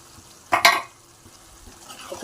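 A spoon scrapes through a pan of mutton curry as onion-tomato paste and coconut masala are stirred in, giving one short, close burst of stirring and sizzling over a quiet simmer.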